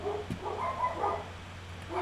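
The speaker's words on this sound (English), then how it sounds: "My dogs are loud as fuck, holy shit." Several dogs bark and yip close by in a short, loud burst, their overlapping barks sounding over a steady low hum with no talking.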